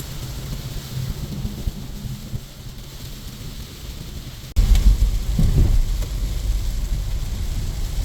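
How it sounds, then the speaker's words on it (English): A heavy outpour of rain roars steadily, then a sudden close crack of thunder breaks in halfway, followed by louder rumbling rain. "Let me show you guys how heavy the rain is pouring, heavy outpour."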